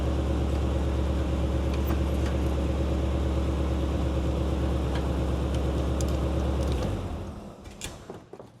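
A Chevrolet C10 pickup truck, long stored, runs in forward gear with a loud, steady, low mechanical drone and rhythmic chugging, then cuts off abruptly near the end, leaving faint clatter.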